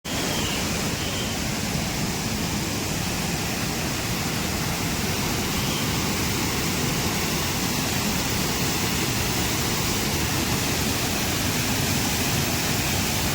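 Thriparappu waterfall roars in heavy monsoon rain, a dense, unbroken wash of rushing water that stays loud and constant throughout.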